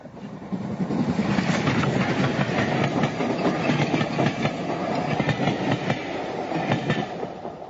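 A train runs steadily on its rails, giving a continuous loud rumble with rhythmic clickety-clack from the wheels, heard close from on board and with no talk.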